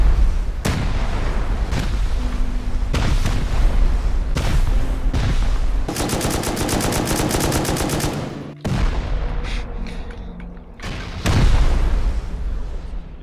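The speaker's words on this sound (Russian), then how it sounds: "Я бы взрывал вот сюда, вот куда-то." Explosions and gunfire during a base raid in the video game Rust, a loud run of booms and rapid shots with a dense burst in the middle and more blasts after a brief drop, no talking.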